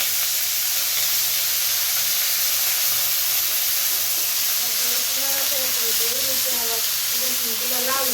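Crushed garlic and greens sizzle in a hot pan with a steady, dense hiss throughout, while a faint voice murmurs underneath during the latter half.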